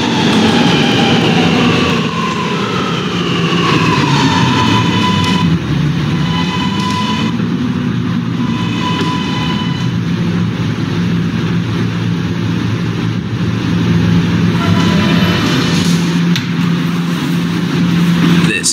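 An R subway train at 28th Street station hums and whines along the tracks, with rising and falling motor tones, squeals and a steady loud rumble throughout.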